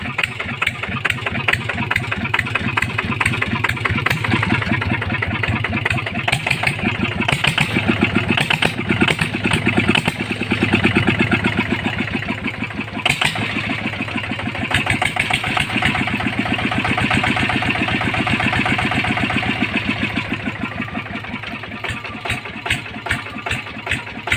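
A motorcycle with an aftermarket exhaust pipe on its medium loudness setting idles steadily at moderate volume, putting out a continuous rumbling putter with slight fluctuations, no voices.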